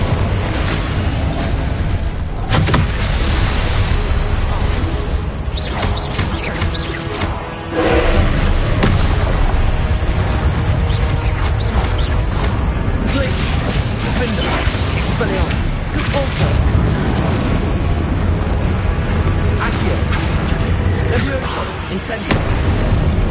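Confringo fiery spell blasts in Hogwarts Legacy: dense, loud booming explosions and thuds roll on almost without a break through a chaotic game battle. Voices are heard over the din.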